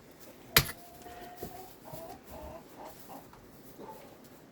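A cockerel in a hen house gives scattered soft clucks after one sharp knock, the calls faint and spaced out against quiet background noise.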